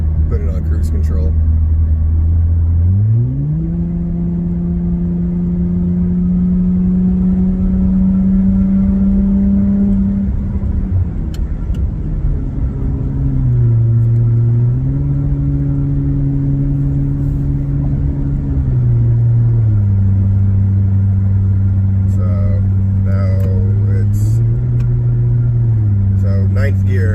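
A 2024 Nissan Frontier with a straight pipe exhaust accelerates to 80, its loud droning engine climbing in pitch through several gear shifts, rising and dropping in steps before settling into a steady highway hum.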